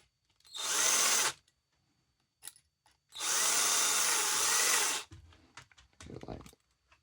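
A power drill drives screws into a 3D-printed floating body mount for a Losi 22S model, with two long steady whirring runs and a shorter final burst, separated by small clicks and handling noises, close and loud.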